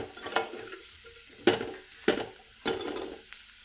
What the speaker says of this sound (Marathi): आता आपण दोडका टाकणार आहे दोडका पण आपल्याला परतून घ्यायचा चांगला